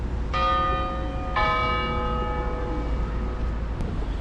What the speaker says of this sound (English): And you hear the bells going now.